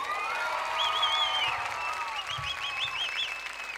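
An audience at a pro-life rally applauds and cheers as a band is welcomed on stage, with continuous clapping and whistles running throughout.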